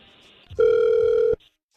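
A steady phone tone rings out for under a second after a brief click, then stops, leaving quiet; no voices.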